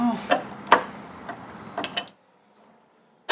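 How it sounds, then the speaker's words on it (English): Metal parts click and clack as the high-speed compression valve is taken out of an Xplor PDS shock absorber, a few sharp mechanical ticks and ratchety knocks close by, then near silence. "we're going to take the high-speed compression valve out"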